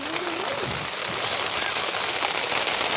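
Steady rain patters on a tent, a dense, even hiss with scattered crackling drops that swells slightly partway through, close and continuous with no talking.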